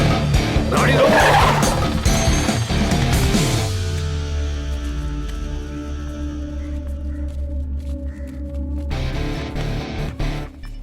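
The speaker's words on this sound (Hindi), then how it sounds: "गाड़ी रोको।" A car brakes hard in an action scene, its tires skidding and squealing loudly for a few seconds. The squeal fades as the car stops and a low engine idle lingers.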